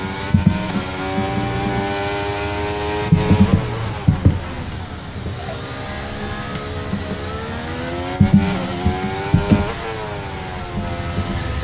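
A Mercedes Formula 1 car in the racing game F1 23 screams close by, its engine note climbing and dropping through gear changes in a continuous high whine with brief bursts between shifts.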